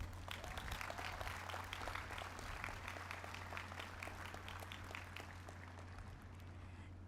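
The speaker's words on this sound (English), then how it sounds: "Let's give them all a round of applause." A graduation audience at Plano East Senior High School applauds, a broad, steady patter of many hands heard from a distance over a low hum, slowly thinning toward the end.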